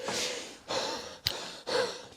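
Heavy, labored breathing close to the mic: about four deep breaths in a row, each a loud rush of air, like someone winded after British Army fitness testing.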